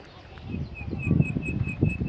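Small birds chirp in short, repeated high notes over a low outdoor rumble, with faint wing flutters nearby, in a rose garden at the foot of a mountain in Isparta, Turkey.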